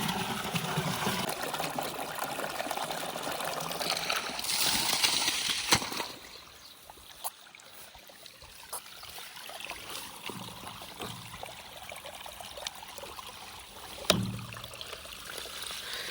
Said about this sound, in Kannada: ಡ್ರಮ್ನ ತುಂಬಿಸ್ಬಿಡೋಣ